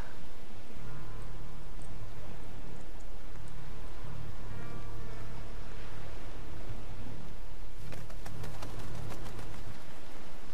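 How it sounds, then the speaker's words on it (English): Birds coo in a Prince of Persia: Warrior Within game scene, soft repeated calls set against a constant hissing, rain-like ambience, with a brief rattling flutter near the end. "Why aren't these birds attacking me like the other ones were?"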